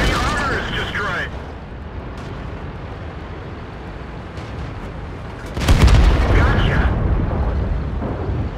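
Tank destroyed in World of Tanks, with a loud booming explosion and rumbling burst arriving partway through, after a brief gun blast and a stretch of engine rumble; a synthetic in-game voice announces the events.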